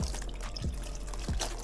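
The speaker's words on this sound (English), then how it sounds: "And just keep applying the water." Water is poured over a leather baseball glove being broken in, giving close, quiet splashing and trickling with a couple of brief sloshing bursts.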